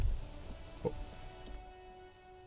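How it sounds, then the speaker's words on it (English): Rain falls on the city of Revachol in the video game Disco Elysium, a faint, even patter of drops with a few soft ticks, with no one talking. "rain falls on the great city of Revachol. Rain drops from the eaves and floods the gutters"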